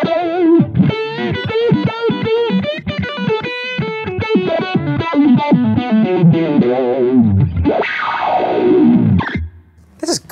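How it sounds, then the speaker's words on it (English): Heavily distorted, effects-laden guitar tones through a Fender Pour Over envelope filter (auto-wah) pedal play loud and gritty, with a swelling, sweeping wash before a brief pause and a final stab. "Let's play with that distortion."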